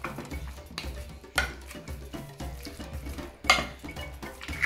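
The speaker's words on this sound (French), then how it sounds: "Je prends ma spatule et je mélange." Spatula mixing spice-marinated meat in a bowl, producing scraping strokes and occasional knocks against the dish in an irregular rhythm, close up, with two louder clatters.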